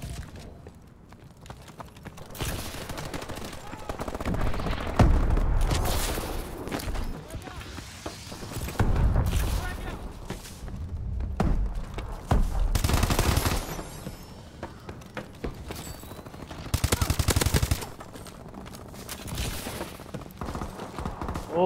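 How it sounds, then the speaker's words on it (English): Rapid bursts of video game gunfire crackle repeatedly in clusters, fairly quiet overall, with people talking intermittently in between. "Holy gunfire"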